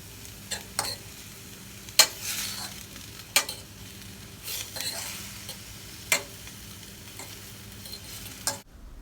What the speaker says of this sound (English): I add the onions. And I stirred for 5 minutes until it was soft.